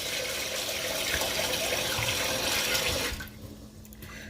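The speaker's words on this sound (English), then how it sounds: "Make sure you rinse your rice off, people." A kitchen tap runs steadily into a sink while rice is rinsed in a bowl, a loud, close wash of water that cuts off after about three seconds, leaving faint drips and trickles.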